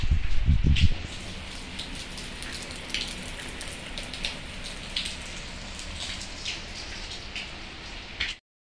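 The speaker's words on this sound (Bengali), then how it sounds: "বৃষ্টি পড়ছে" Steady rain falls outdoors, a dense even patter and hiss on surfaces throughout, opening with a short burst of louder low rumbling before settling into the continuous downpour.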